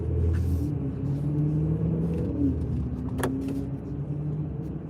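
A car runs a red light and passes close by, its steady engine rumble and road noise holding loud and near throughout with a slight swell as it goes past.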